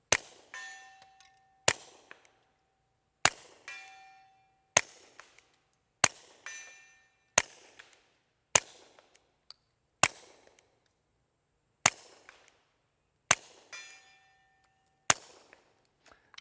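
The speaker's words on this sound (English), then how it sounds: "Now I'm firing some 36 grain Federal Champion, just bulk box ammo through here." A Walther PPQ M2 .22lr pistol fires Federal Champion 36 grain bulk ammo at a steel target about 100 yards out. Twelve sharp, spaced shots sound alone, several followed by a faint ringing ping from the steel plate.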